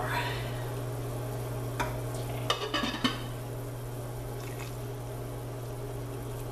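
Onion gravy stirred and reducing in a pan, with a soft steady simmer, a few sharp spoon scrapes and clinks in the middle, and a low constant hum underneath.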